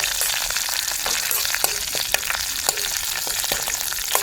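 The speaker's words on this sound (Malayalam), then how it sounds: "കരുവേപ്പില കൂടി ഇട്ട് കൊടുക്കുക എന്നിട്ട് നല്ലപോലെ ഒന്ന് ഇളക്കി കൊടുക്കുക" Curry leaves fry in a pan for Kerala-style cucumber pachadi, a loud, dense, continuous crackling sizzle close up, with scattered clicks and scrapes of stirring and no talking.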